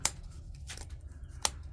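Gerber multi-tool scissors snipping material, with three sharp, separate cuts spaced irregularly across a short stretch, close and crisp over a low steady background hum.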